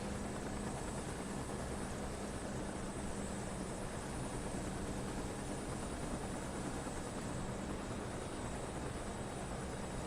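Helicopter in the Microsoft Flight Simulator 2024 game, heard as a steady, dense rotor and engine drone that stays loud and unchanging throughout, with no talk.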